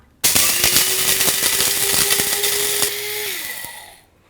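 Electric spice grinder whirring through mustard seeds: a loud, steady high-pitched motor whine with gritty rattling of seeds, starting abruptly, holding for about three seconds, then pitching down and spinning to a stop.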